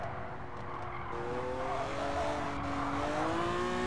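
A car drifts through a corner in the Gran Turismo 7 racing game during a Super Licence test, its tires squealing in a rising, sustained whine over a steady engine drone, close and continuous.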